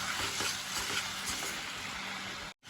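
Ground spices and turmeric frying in oil in a pan for Bengali mocha chingri, giving a dense, close, steady sizzle with faint stirring noise, ending in a brief cut, with no voices.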